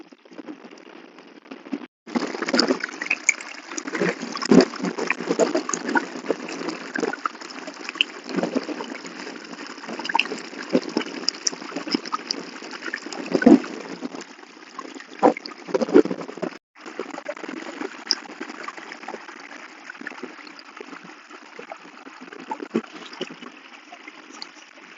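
Rainwater gushes and pours steadily out of a flooded paddy field during heavy monsoon rain in Keonjhar, Odisha, a dense rushing wash that runs almost unbroken with a brief dip partway through.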